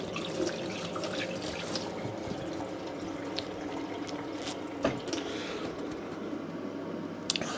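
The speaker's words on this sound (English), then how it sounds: "I'm just going to wash my hands." Hands are washed under a running kitchen tap, a steady close splash of water with small irregular splatters and a couple of sharper knocks.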